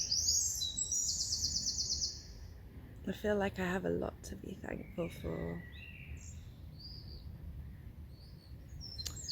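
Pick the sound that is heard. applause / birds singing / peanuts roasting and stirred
birds singing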